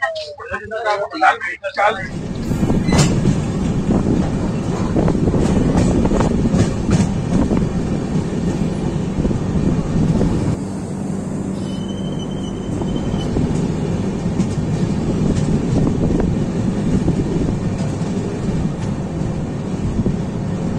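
The Prayagraj–Bikaner Lalgarh Express passenger train rumbles along steadily between Mathura and Jaipur near Dausa, with rhythmic clatter and loud rolling noise, a voice speaking intermittently over it.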